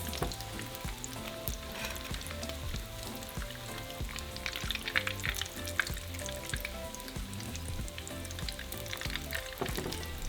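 Tacos filled with shredded beef frying in oil until golden and hard, a dense continuous sizzle with crackling pops and occasional utensil taps, close and steady.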